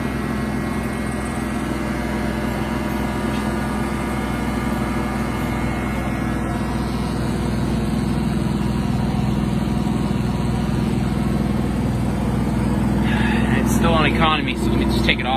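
A Generac IQ3500 inverter generator runs with a steady engine hum while a cooling fan on high adds a broad whirring roar; a person talks over it, and short clattering handling noises come near the end.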